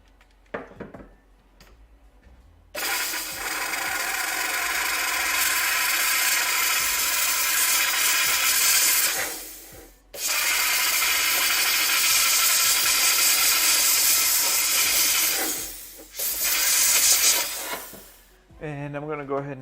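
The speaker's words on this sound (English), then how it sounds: "Let me go to the steamer and steam this off." A garment steamer hisses loudly and steadily while steaming material off a Phase I interim Hawley build, in long sustained bursts with brief pauses between them.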